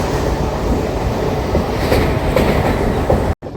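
A MEMU commuter train runs along the tracks, a steady close rumble with rhythmic wheel clatter heard from inside, cutting out briefly at the end.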